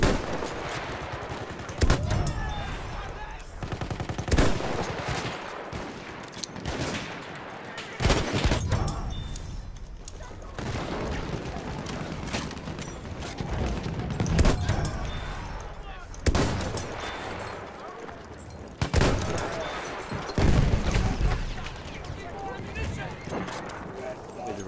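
Sniper rifle fire in Battlefield 1, a WWI shooter game, with sharp single shots cracking out at intervals over busy battle noise and other gunfire, while a voice talks throughout.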